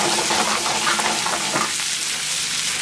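Jalapeno and bacon frying in bacon fat in a pan for an omelet, a steady dense sizzle with crackling pops that softens a little toward the end, close and loud with no talking.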